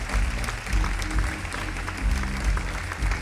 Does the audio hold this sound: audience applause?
yes